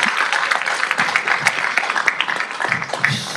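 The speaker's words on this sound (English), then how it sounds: "let's give him a round of applause for that" Steady applause from a city council meeting audience, a dense patter of many hands clapping throughout, fairly close and moderately loud.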